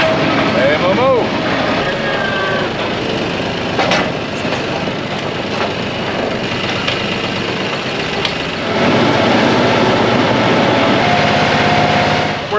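A tractor engine drives up to the farm at a horse boarding facility, a loud, steady rumble that holds for the whole stretch and swells slightly near the end, with faint voices now and then.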